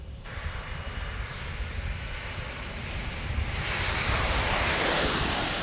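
A Southwest Airlines airliner, an Airbus A331, passes overhead at a San Diego airport, its broadband engine roar building steadily and growing louder toward the end, with no voices.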